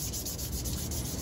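Sandpaper rubbed steadily over a part of a Honda TRX400EX ATV, a continuous close, loud scratchy rasp with quick back-and-forth strokes and no talking.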